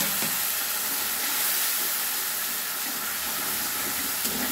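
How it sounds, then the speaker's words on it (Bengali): Ground spice paste sizzling in hot oil, a steady broad hiss that stays loud and continuous throughout, close up with no voices. "ফোড়নটা ভাজা হয়ে গিয়েছে, এবার আমি বাটা মশলাটা দিয়ে দিলাম।"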